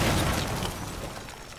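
A loud burst of gunfire or an explosive boom in the video game Rainbow Six Siege opens sharply, then decays into a broad, rumbling tail that fades over a second or so.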